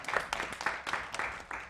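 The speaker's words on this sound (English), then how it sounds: "Give a round of applause to all of the participants." Quiz competition audience applauding the participants, a fairly quiet round of clapping that comes in uneven surges and stays fairly distant and soft.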